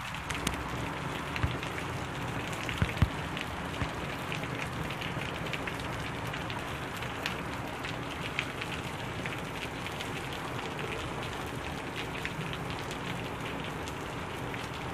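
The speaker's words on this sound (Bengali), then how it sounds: "অনেক বেশি বৃষ্টি হচ্ছে অনেক দিন পরে সৌদি আরবে" Heavy rain pours down in Saudi Arabia, a dense, steady roar of drops drumming on surfaces that holds for the whole stretch without a break and with no voices.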